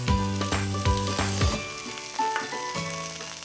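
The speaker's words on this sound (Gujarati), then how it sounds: "તો હવે આપણે જે વેજીટેબલ છે એને સાતળવાના છે." Vegetables such as cabbage, green onion and carrot sauté in oil in a hot pan, giving a loud, steady close sizzle with a few scraping stirs.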